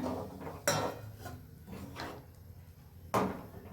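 Fried yam pieces and coconut go into a curry pan. A spoon clinks and scrapes against the metal in a few sharp, separate knocks, fairly faint and close by, with quiet stirring between them.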